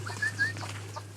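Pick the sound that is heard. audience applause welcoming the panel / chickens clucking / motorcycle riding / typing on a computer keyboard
chickens clucking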